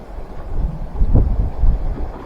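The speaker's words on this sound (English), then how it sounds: "We have got a bit of wind today." Wind gusts buffet the microphone on a rocky sea fishing mark near Dartmouth, a steady low rumble that swells twice with no voices.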